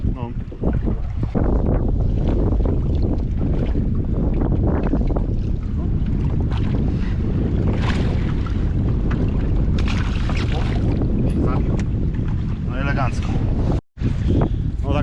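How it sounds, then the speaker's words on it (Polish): Strong wind blasts across the microphone on a lake during a spinning fishing trip, a loud continuous roar with gusty surges, water and boat noise mixed in, and voices talking over it. A brief dropout occurs near the end. "pogoda nas nie rozpieszcza, jest wiatr naprawdę straszny"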